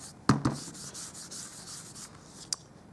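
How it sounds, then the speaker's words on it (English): Embossing buddy anti-static pad rubbed across a card stock surface, soft repeated brushing strokes up close, with a couple of sharp knocks early on and one near the end, no speech. "And what I will do is use my embossing buddy."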